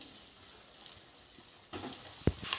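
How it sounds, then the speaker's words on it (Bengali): Vegetable chops made of carrot, beetroot and potato fry in hot oil with a soft, faint, steady sizzle. Louder crackling and a sharp clatter come near the end. "বাকিগুলো আমি একইভাবে ভেজে নেব।"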